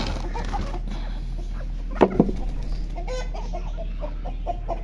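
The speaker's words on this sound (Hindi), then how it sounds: "हम मुर्गियों को निकालते हैं जी बाहर।" Chickens clucking in low, scattered bursts as they are let out of a cage, with a couple of sharper, louder calls midway over a steady background hum.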